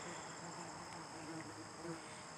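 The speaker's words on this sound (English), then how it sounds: "the bee just keeps following me around" A bee buzzing near the camera outdoors on a sunny day, a faint, wavering drone over a steady insect hum in the background.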